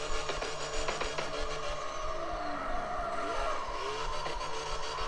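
A car with a manual transmission drifts in the CarX Street racing game, engine droning steadily while tires squeal in long sweeping skids throughout.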